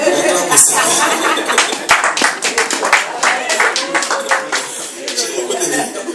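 A church congregation breaks into loud, close applause, a dense run of clapping with a few voices and light laughter mixed in.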